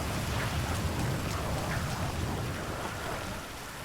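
Steady rainfall in the zombie-city survival game GTA V, a dense, constant hiss of falling rain with faint spattering drops, fairly loud and even throughout, with no voices over it.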